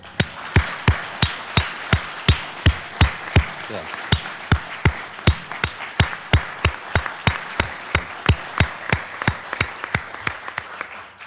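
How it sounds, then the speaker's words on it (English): Applause at a university business college alumni awards ceremony, heard as a single pair of hands clapping steadily and evenly, close and distinct, over a faint murmur of background crowd. "give a round of applause to John Mitchell"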